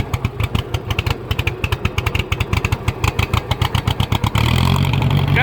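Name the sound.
2010 John Deere engine running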